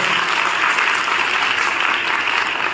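A large audience at an Arya Kanya Mahavidyalaya gathering held by the Brahma Kumaris claps loudly and continuously, a dense, unbroken roar of hands at a constant level throughout.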